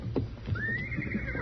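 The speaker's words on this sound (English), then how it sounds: "And that's his horse, too." A horse neighs with a long rising whinny in an old Western radio drama scene, beside a burnt-up wagon, with faint hoof clops and background noise early on.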